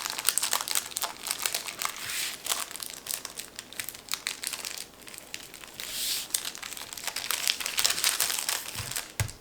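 Parchment paper crinkles and rustles steadily and close by as homemade fruit roll-ups are rolled up, with dense crackling bursts throughout.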